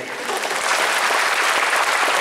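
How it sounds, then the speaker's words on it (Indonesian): A comedy show audience breaks into applause, a dense and even burst of clapping that rises quickly and holds strong through the brief moment, with no talk over it. "tepuk tangan buat istri saya"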